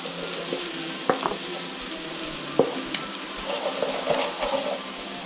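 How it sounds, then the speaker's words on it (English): Bacon and onions fry and crisp in a pan, a steady close sizzle broken by a few sharp stirring clacks and scrapes, with no talking. "That bacon fat is rendering off. And these onions seem to be crisping."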